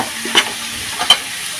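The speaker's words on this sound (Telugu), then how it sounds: "సన్న గ్యాస్ మీద సన్న వంట మీద వేపాలండి ఉల్లిపాయ ముక్కలు" Onion pieces fry gently in oil over a low flame, a soft continuous sizzle with two brief stirring scrapes, close and without speech.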